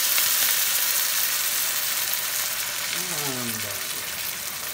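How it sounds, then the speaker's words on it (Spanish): Browned pork sizzles loudly in a pan as sauce is poured in, a steady broadband frying hiss throughout with a brief voice-like tone near the end. "Vamos a agregar toda la salsa."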